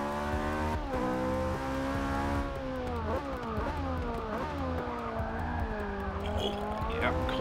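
Tires squeal continuously on a Ferrari 458 Speciale in a racing video game as the car slides and loses grip, the screech wavering in pitch over a steady engine drone, close and sustained the whole time.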